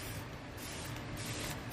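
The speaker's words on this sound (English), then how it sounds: "I give it a little spray of water." A spray bottle mists water onto a fabric drop cloth, giving a steady, close hiss that runs throughout without pause.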